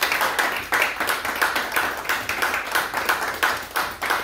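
A church congregation claps in a steady, even rhythm, many hands together, fairly close and moderately loud, with no talking over it.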